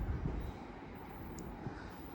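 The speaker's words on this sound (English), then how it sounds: "here comes my train to get me out of here and take me to the next station on the line" A West Midlands Railway train pulling into a station on the Chase Line, a steady low rumble and rolling noise that holds at an even level with no talking.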